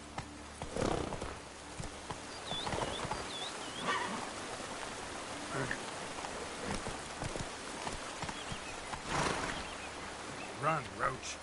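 Roach, the horse in The Witcher 3 on PS5, gallops with steady hoof clops and a brief whinny, mixed with other game sounds and a voice speaking.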